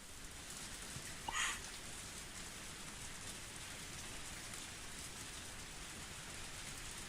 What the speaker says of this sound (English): Even in this torrential rain